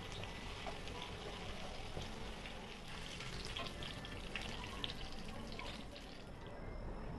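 Fish pieces fry in a pan for Kerala fish molee with a faint, steady sizzle and scattered crackles, heard alone and at low volume.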